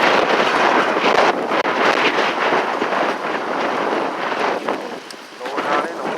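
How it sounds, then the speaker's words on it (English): Strong gusting wind during a November windstorm in Memphis, a loud, continuous roaring rush that buffets the microphone, with a voice speaking over it. "This wind been cutting up."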